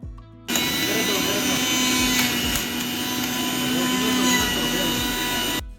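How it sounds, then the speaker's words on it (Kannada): An electric juicer making vegetable juice starts abruptly into a loud, steady motor whir that runs evenly for about five seconds before cutting off. "ಅದ್ರ ಮೇಲ್ಗಡೆ ವೆಜಿಟೇಬಲ್ಸ್ ಹಾಕಿದ್ರೆ ಇನ್ನು ಜ್ಯೂಸ್ ಅಂತೂ ಪ್ರಿಪೇರ್ ಆಗುತ್ತೆ"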